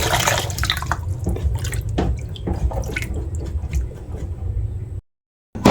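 Water is poured into a cooking pot to boil chicken breast, making a splashing, trickling rush with scattered drips and clinks. The sound is close and fairly loud. It tapers toward the end, falls briefly silent, then resumes.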